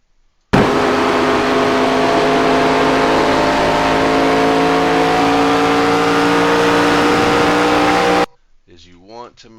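Simulated ARCA race car engine from iRacing at Nashville Speedway, roaring loud and steady at full throttle for about eight seconds with a constant high-pitched drone, then cutting off abruptly into a short stretch of quieter sound.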